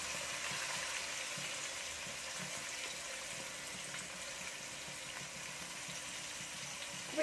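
Sliced onions hissing in hot oil in a pan, the first step of a Kerala-style fish biryani, giving a steady, fairly loud frying sizzle throughout, with a faint clunk at the very end.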